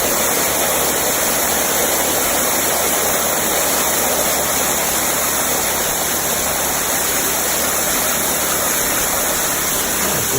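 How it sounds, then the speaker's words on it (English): Water pumped by a 1 1/2 inch pump pours over the back of a gold sluice header box fitted with hog matting and miner's moss, a loud constant rushing gush lasting throughout. "the water is actually coming over the back"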